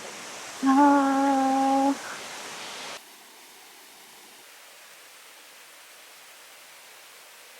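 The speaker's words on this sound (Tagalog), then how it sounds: "Ayan na, may waterfalls na agad." A waterfall in Mae Kampong, Chiang Mai rushes as a steady broadband roar. A voice exclaims briefly over it before the rushing drops to a softer, more distant wash.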